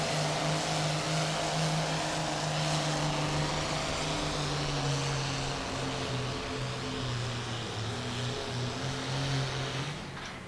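Pulling tractor at a truck and tractor pull at the Linn County Fair, engine roaring steadily from a distance with a sustained droning pitch that wavers slightly, fading a little at the end, no talk.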